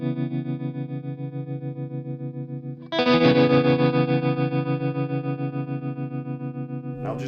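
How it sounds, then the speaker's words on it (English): Red House Electronics Heat Wave tremolo pedal in normal tremolo mode, shaping a sustained guitar chord with a pulsing volume wobble; a fresh, brighter strum enters midway and rings on, with a short new attack near the end, no talking. "So just to let you hear the normal tremolo sound"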